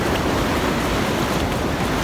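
Ocean surf at high tide in Kawela Bay, Hawaii, rushes in as a continuous dense wash of waves, loud and close, with some wind buffeting the microphone and no talking.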